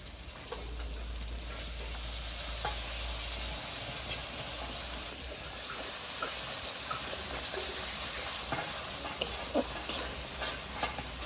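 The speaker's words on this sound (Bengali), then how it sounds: "এবার বেটে রাখা চাল মগজ আর কাজুটা দিয়ে দেবো" Steady close sizzle of masala frying in a pan as ground rice, melon seed and cashew paste goes in, with soft stirring clicks and scrapes through it and no talking.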